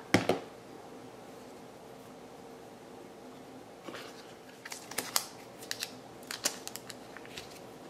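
Scissors snip a ribbon after a bow is tied, giving a sharp cut at the start and then a cluster of small clicks and handling noises, close and quiet.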